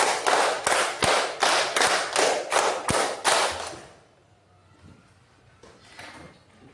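A class of students claps a fast patterned rhythm together, around ten crisp unison claps in quick succession, loud and close, then near quiet with faint room noise.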